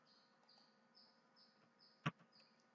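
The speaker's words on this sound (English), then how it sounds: "You can hear the birds chirping." Faint, high bird chirps repeat at a steady rhythm over a low hum of distant outdoor ambience, with one brief sharp knock partway through.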